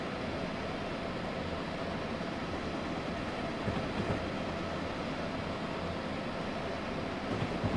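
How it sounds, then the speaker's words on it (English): A train passes on the opposite track in Train Simulator 2019, Amtrak ACS-64 running New York to New Haven: a steady, loud broadband rumble and rushing roar holds throughout, with slight swells near the end. "there is another train coming the other way"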